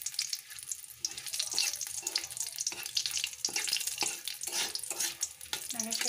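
Two cracked green cardamom pods fry in a pan for a chicken biryani, with steady close sizzling under repeated scraping and stirring strokes and no one speaking.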